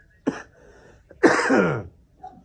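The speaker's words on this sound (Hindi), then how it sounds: "खांसी आ गई है मुझे" Two throaty coughs, a short sharp one followed by a longer rasping, drawn-out cough, close and fairly loud, with quiet pauses around them.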